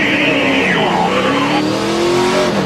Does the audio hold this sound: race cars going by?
yes